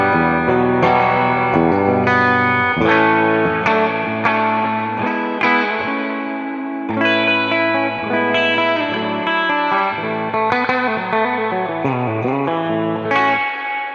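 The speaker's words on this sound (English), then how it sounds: "I love those flutters in a spring reverb" Electric guitar played through an AmpliTube 5 blackface amp tone with spring reverb, sounding as a sustained, loud phrase of chords and single notes with a drippy, fluttering reverb tail and no talking.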